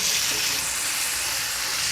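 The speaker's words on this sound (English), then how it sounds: "You can hear it sizzling." Loud, steady sizzling of a tomahawk steak searing in butter in a hot pan, a continuous crackling hiss close up with no voices.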